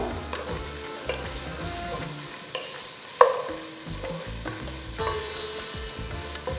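Tomatoes frying in a pan for a rice dish, a steady close sizzle with repeated scraping and clinking of a utensil stirring, one sharper clink standing out.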